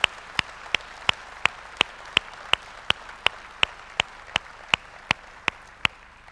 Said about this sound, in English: I think we owe a big round of applause to Dusty Green